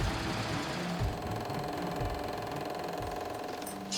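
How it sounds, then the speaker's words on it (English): A serger stitching fabric front and back pant leg pieces together, a loud, continuous mechanical whir with a fast steady chatter and no pauses. "I could finally serge those front and back leg pieces together, and then attach both legs together at the crotch."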